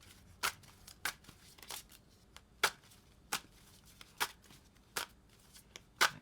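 Tarot cards are shuffled and handled close by in a quiet room, giving a run of soft, crisp snaps and flutters spaced about half a second to a second apart.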